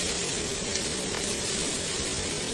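Glass noodles stir-fried with garlic in a hot pan, a loud, close, continuous hissing sizzle with a faint scraping of stirring underneath and no voices.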